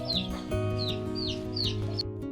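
Young layer chicks cheep in a coop, a rapid series of about five bright, falling peeps in a steady rhythm over a low droning background hum, close and clear with no talking.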